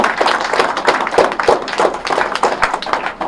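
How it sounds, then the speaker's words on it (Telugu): A crowd applauds students and teachers, dense steady clapping from many hands, loud and sustained throughout, with no break. "Big round of claps to all the students and teachers."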